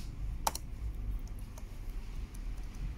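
Keys tapped on an Asus X55C laptop keyboard after a keyboard replacement, a sparse run of soft clicks with one sharper press near the start over a steady low background hum.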